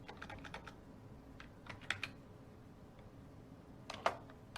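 Typing on a computer keyboard while entering a command for a Windows 10 networking lab, a quiet, close sequence of irregular key clicks with a few sharper taps and short pauses between bursts.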